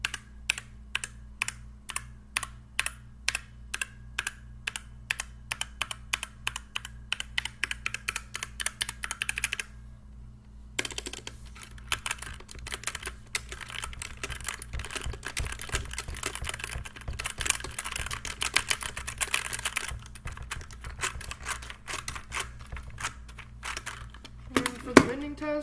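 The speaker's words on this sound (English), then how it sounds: "We're going to just test out the keyboard itself and do a little sound test." Keys clack on a DIERYA gaming keyboard in quick, close bursts of typing and random presses, briefly pausing before resuming in a dense rapid patter.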